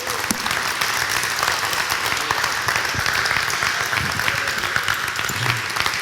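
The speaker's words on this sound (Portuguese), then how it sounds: "Você pode dar um aplauso bem forte ao Senhor Jesus Cristo?" Loud, vigorous applause from a church congregation fills the space, continuous clapping with a few sharp claps standing out and faint voices mixed in.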